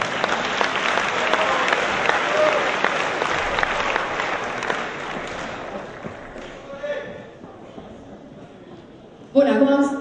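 Loud, sustained audience applause and cheering fill a hall at a freshmen's ball for economics students in Cluj, fading toward the end before a brief burst of louder noise.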